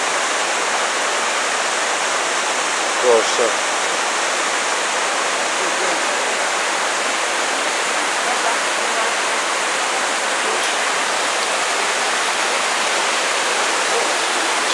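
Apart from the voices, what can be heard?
waterfall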